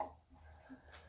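A pen scratches briefly and faintly across a page during a class-10 maths lesson on surds; a short, quiet stroke with no voice.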